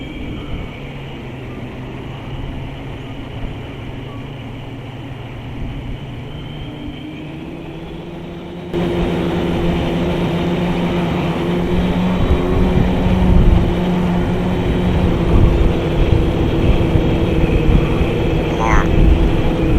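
Syma X8 quadcopter drone shell fitted with Bugs 3 electronics, motors starting partway through and holding a steady, loud droning whir close by, with a thin rising whine near the end over a constant background hum.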